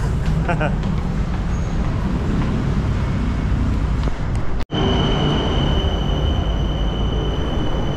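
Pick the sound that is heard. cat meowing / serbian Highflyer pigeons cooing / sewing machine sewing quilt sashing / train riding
train riding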